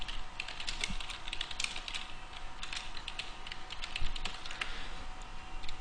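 Rapid, fairly steady typing on a computer keyboard while entering a team name during account registration, with dense clicking keystrokes close and clear throughout.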